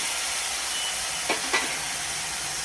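Green chillies are added to onion paste in hot oil and fry with a steady hiss, broken by two short stirring or dropping sounds near the middle.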